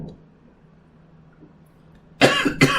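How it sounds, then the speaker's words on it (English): After near silence, two sharp, close coughs come in quick succession at the end. "I can't go 6 minutes without coughing twice so far"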